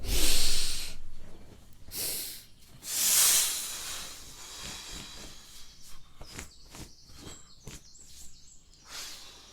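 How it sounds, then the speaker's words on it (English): A person breathes out deeply and forcefully, emptying the lungs during a guided breathwork exercise; several long, breathy exhalations swell and fade, loudest at the start and again near three seconds, with softer breaths and faint background between them. "take a deep full breath out, completely empty your lungs"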